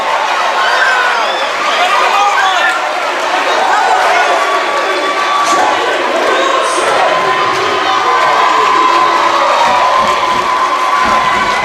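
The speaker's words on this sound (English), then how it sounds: "Man, this crowd is still going nuts for that play." A high school basketball crowd in a gym on senior night cheers and shouts continuously, loud and echoing, with children's voices and whoops mixed in and a voice talking over the roar.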